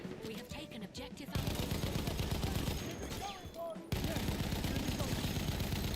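Battlefield 1 gunfire crackles in rapid bursts, with dense automatic fire filling most of the short stretch and a brief quieter break between volleys, fairly close and loud.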